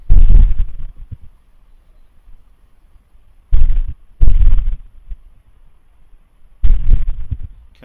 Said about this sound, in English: you will hear this night, the sound of the explosion.